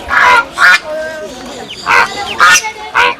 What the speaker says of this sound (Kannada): ಬಾತುಕೋಳಿ